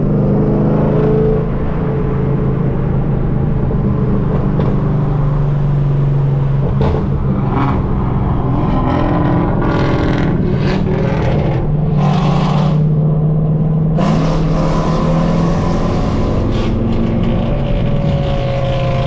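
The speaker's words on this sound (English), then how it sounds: "Driving through tunnels has to be the best experience when you have a straight pipe" Loud straight-piped car exhaust roars and rumbles while driving through a tunnel, with a steady low drone broken by repeated sharp revs and crackling bursts echoing close by. No one speaks.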